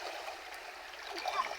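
A river's current runs steady and close, a continuous rushing and gurgling wash of water with no voices, heard from a small boat on a deep river.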